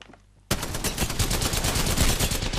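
A Havoc rifle fires in a video game as a sudden, loud burst of rapid automatic shots. The rounds crack in a tight, continuous stream right after a brief quiet start.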